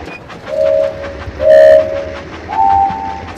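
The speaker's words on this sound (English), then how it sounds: "Swipe left or right to keep the train on." A train in a children's train video game rolls along its track with a steady rumble, punctuated by three short horn-like tones, loud and close, with no talking.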